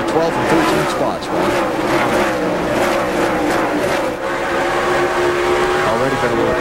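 NASCAR race cars roar at speed on track during the 2004 Food City 250, a continuous loud engine drone with revving and passing cars throughout and no pause.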